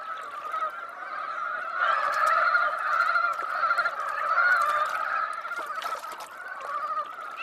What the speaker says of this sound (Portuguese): Por outro lado, os patos mandarins não são tão apressados.